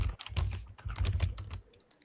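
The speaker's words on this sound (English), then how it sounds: "we can hear you typing" Quick bursts of typing on a computer keyboard, dense irregular key clicks in close, fast runs with short pauses, fairly quiet and heard alone.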